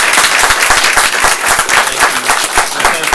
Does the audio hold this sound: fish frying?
no